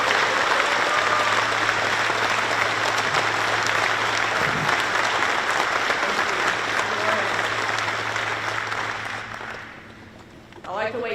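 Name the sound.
audience applause welcoming the governor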